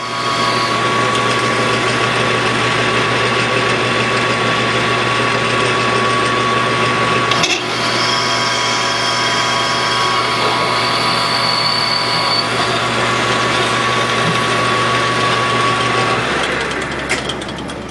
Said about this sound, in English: This is a 1-inch drill.